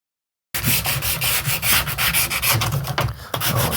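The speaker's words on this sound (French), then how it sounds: "Et voilà, donc j'attaque le ponçage" A wooden tree branch being made into a lamp is sanded to strip its bark: after a brief silence, loud, close, continuous abrasive rasping with a steady back-and-forth stroke rhythm.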